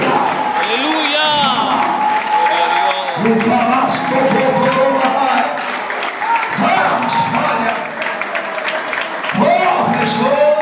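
A church congregation claps and cheers during a Spanish-language worship service, the rhythmic applause mixed with voices and sung or shouted praise, rising and falling over several seconds with brief lulls.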